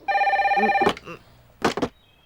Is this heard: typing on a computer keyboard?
no